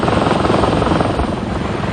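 A small Robinson helicopter flies close by, its rotor and engine making a loud, steady thudding roar that fills the whole stretch without a break.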